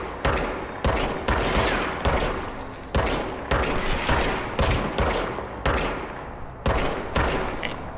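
Enemy gunfire in the video game Control crackles in rapid repeated volleys, loud sharp bursts roughly every half second to second, with no talk over it.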